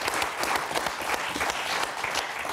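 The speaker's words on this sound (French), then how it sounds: "Florian et de Bernard qu'on va applaudir très fort" Studio audience on a French TV game show applauding loudly and steadily, a dense continuous roar of claps throughout.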